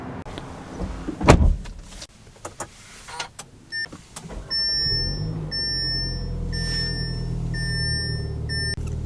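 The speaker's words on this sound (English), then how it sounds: "Mirrors do power fold in." Power-folding side mirrors on a 2024 Audi Q3 compact SUV motor inward with a steady, fairly loud electric whir lasting several seconds, following a few clicks and knocks inside the cabin.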